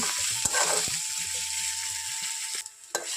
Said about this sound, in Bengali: আমি এটাকে ততক্ষণ ভাজবো যতক্ষণ না আদা রসুনের কাঁচা গন্ধটা চলে যায়